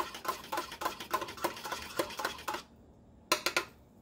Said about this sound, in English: So I'm going to use a fork like a whisk and whisk this up